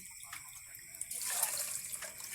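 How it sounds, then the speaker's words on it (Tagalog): Water starts streaming into a pot of rice with a soft splashing gurgle, faint at first, then steady and close. "tubigan ng kung gaano kataas ang bigas"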